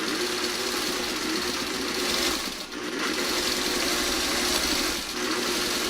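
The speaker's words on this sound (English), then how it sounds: "I'm just going to go sew right across, and then I'm going to sew, let's see, 2 of these together" A sewing machine stitches hexagon flower quilt pieces together, running as a steady, loud, close mechanical whir with a rapid needle rhythm and two brief dips where the stitching pauses.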